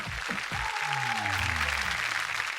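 Dense applause from a studio audience on a Marathi TV game show, with a sliding, whistle-like tone and low musical notes running through the middle.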